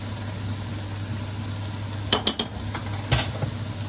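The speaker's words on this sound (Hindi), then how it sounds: "और इनको मिक्स कर देंगे।" A spoon stirs biryani masala and salt into chicken for Karachi-style chicken biryani, making a few soft scraping clinks against the pot over a steady low sizzle.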